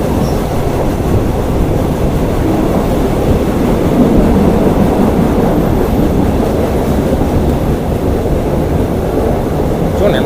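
Bangkok local commuter train running between Wongwian Yai and Maha Chai: a loud, continuous low rumble of wheels and carriage throughout, with a talking voice faintly mixed in.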